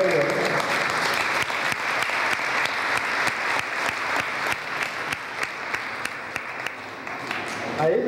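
Loud, sustained applause from a congregation inside a church during a consecration service, dense clapping filling the whole stretch with no talk over it.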